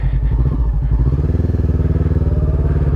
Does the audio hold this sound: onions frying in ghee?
no